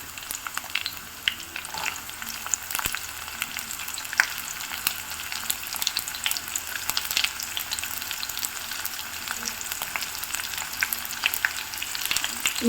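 Finely chopped onion frying with chicken in hot oil, a dense continuous crackling sizzle with scattered pops and occasional stirring, close and steady throughout.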